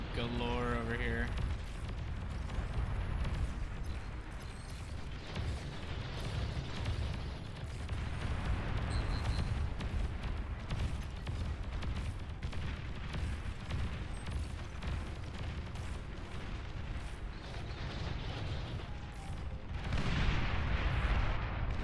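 Dense bombing explosions in the real-time strategy game Beyond All Reason, a continuous barrage of booms and rumbling blasts, with a person talking over the battle noise.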